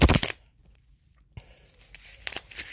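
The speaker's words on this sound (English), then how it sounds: "I'm going to give it a good shuffle." A tarot deck is shuffled by hand: a sharp riffle burst at the start, a near-silent pause, then lighter papery card flicks and shuffling, close and fairly quiet.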